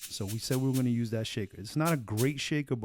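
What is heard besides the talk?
No distinct noise like a dog, phone or traffic.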